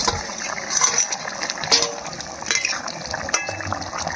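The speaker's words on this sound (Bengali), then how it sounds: "পরিমাণ মতন জল দিচ্ছি" Water being poured into a pot of fish curry: a gushing, splashing pour under a low background hiss, with a few light clinks of utensils scattered through.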